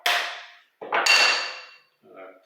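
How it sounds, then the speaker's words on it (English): A plane hammer taps a woodworking plane to back off and retract the blade: three sharp metallic knocks, close and loud, the first two ringing out briefly and the last one softer. "using a plane hammer."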